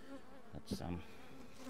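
Honey bees hum and buzz steadily in a continuous close swarm drone at an opened hive on a honey farm as queen cells are placed into poor-performing hives, with a brief spoken word.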